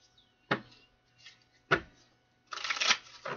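Tarot cards are shuffled by hand in crisp bursts, two sharp riffles followed by a longer, louder flurry of cards slapping together, close and clear with no talk.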